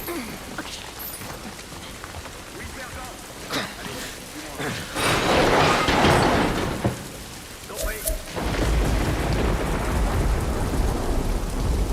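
Heavy rain pours in the video game The Last of Us, with rolling thunder swelling into loud booms midway and a steady downpour throughout.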